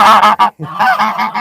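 Loud, close geese honk repeatedly in harsh nasal bursts, with a brief gap before the honking resumes.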